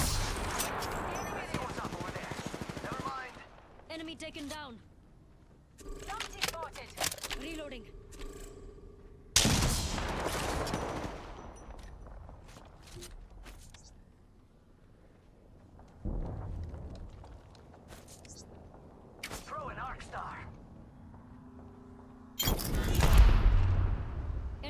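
Gunfire in an Apex Legends ranked solo match played as Rampart comes in loud, rapid bursts and sharp single shots with gaps between them, while players talk over the action.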